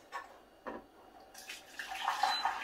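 Water is poured into a pot on a stove in a home kitchen, heard as soft splashing that builds into a steady, filling gush. No one talks during it.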